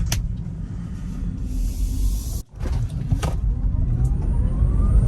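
Tesla Model Y electric SUV launching hard from 0 to 60, a steady close rumble of road and motor noise building throughout with a brief dip midway.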